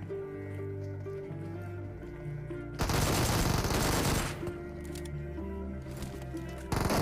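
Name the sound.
gunfire while pre-firing in a shooting video game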